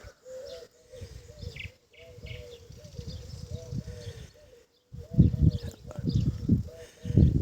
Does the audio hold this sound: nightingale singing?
yes